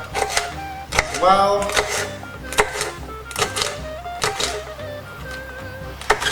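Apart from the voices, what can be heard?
knife cutting sweet banana peppers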